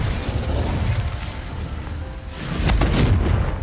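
A Confringo blasting spell goes off in Hogwarts Legacy, a broad rumbling explosion that swells to a heavier burst near the end over continuous game noise.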